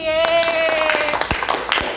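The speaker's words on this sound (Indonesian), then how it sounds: "Tepuk tangan lagi." Group applause in a classroom, with scattered claps that start over a sustained tone and thin out to a few irregular hand claps, moderately close.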